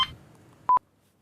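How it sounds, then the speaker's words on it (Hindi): A telephone rings with a quick pair of short, clear electronic beeps, loud and close against a faint background murmur. "एक मिनट, शायद फोन।"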